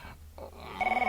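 A telephone rings with a rapid warbling electronic trill that begins partway through after a low dull rumble, moderately loud and close.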